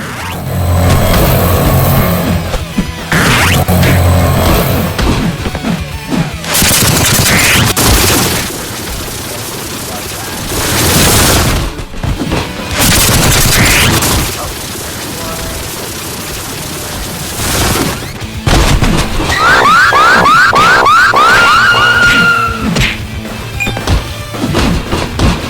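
In the Scott Pilgrim vs. The World co-op video game, a nuclear attack fires off loud booms and crashing explosions in bursts, mixed with game music and effects, while players talk.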